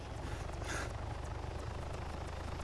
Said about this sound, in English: The helicopter's in the fucking air